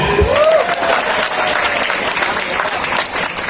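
An audience at an Islamic boarding school gathering claps for a marawis drummer, a dense burst of applause that holds steady and loud for the whole stretch, close and lively.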